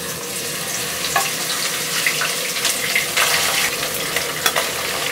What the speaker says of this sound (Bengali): মাছটাকে তুলনামূলক একটু কড়া করে ভেজে নিতে হবে।